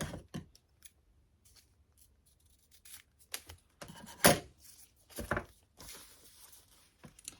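Washi tape being pulled and cut with scissors for a travel journal page, a close, quiet sequence of scattered small snips, clicks and tape rustles, with one sharper crisp cut in the middle and no talking.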